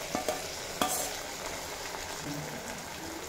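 Ginger, garlic and chilli paste frying with well-fried onions for a mutton curry, a steady low sizzle with a few sharp clinks of stirring near the start, fairly quiet throughout.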